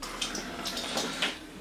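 Cold water being poured into a bowl of self-raising flour to make tempura batter for soft shell crab, a short soft splashing pour close by, with no talk over it.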